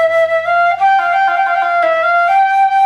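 Close solo flute repeating a slow Baroque trill in a Bach minuet, steady sustained notes stepping back and forth between two pitches, played alone with no talk.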